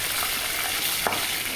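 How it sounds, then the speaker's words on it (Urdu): Five or six green chillies fry in hot oil for a masoor dal tarka, a steady close sizzle with a faint stir or pop near the middle. "ہم اس میں ڈالیں گے 5 سے 6 گرین مرچیں۔ اب ان کو بھی 1-2 منٹ ہم نے فرائی کرنا ہے"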